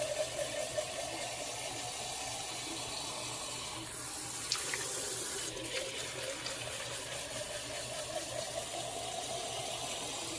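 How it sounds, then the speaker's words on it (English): Pasta water pours from a big cup into a kitchen sink, a steady rushing splash that runs for about ten seconds with slight swells, fairly close and alone. "Drain here. Get most of that starch off of there."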